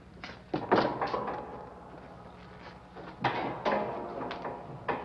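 An old interior door in a cramped, stuffy room is opened onto a folding bed behind it: a few wooden thunks and a clatter near the start, then a second burst of knocks and rattles, all close and moderately loud.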